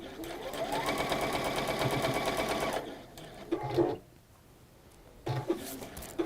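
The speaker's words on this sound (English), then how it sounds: "I would sew it with the seams facing upwards so that I can see them and make sure that they're all going to lie flat as I sew it down" A sewing machine runs in one steady burst of stitching for nearly three seconds, sewing seams down flat in a workshop. Then come a few short clicks and handling noises, plus a brief low voice sound.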